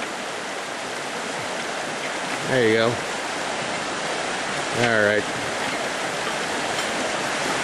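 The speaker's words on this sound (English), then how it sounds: "Let's splash a little water back into the bucket." Water splashes back into a bucket beside a flowing creek, two short pouring splashes over the steady rush of the stream, with someone talking briefly in between.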